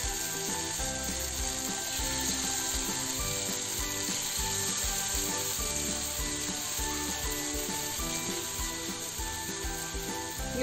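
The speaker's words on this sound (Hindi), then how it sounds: "अभी हम इसे जो हमारा मैरिनेशन पनीर है उसे हल्के हाथ से थोड़ा सा बस हमें हल्का सा रोस्ट करना है इसे" Marinated paneer roasting in a pan over a low flame gives a steady, close sizzle with crackling and faint scraping throughout, alone without speech.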